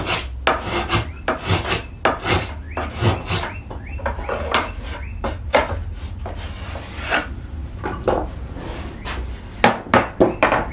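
A freshly sharpened spokeshave shaves a riven oak panel trimmed to 14 inches wide, giving loud, rhythmic rasping strokes in quick repeated bursts, close up with no talking.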